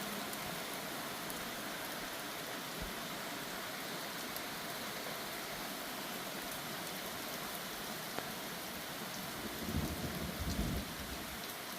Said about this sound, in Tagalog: Nalakas ng ulan, eh.